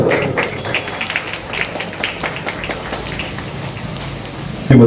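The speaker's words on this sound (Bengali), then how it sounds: "একটু জোরদার হাততালি হোক।" Applause from the audience at a Hindu Sammelan gathering, a loose, scattered patter of many hands clapping at moderate distance, carrying on steadily for several seconds before a voice cuts in at the end.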